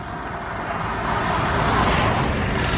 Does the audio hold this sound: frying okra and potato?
no